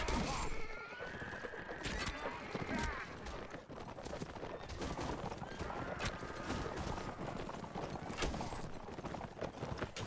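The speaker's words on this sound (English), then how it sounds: "That horse is just not stopping." A video game horse gallops with rapid clip-clop hoofbeats and a neigh, mixed with gunfire bursts and crashes, under a player's talk.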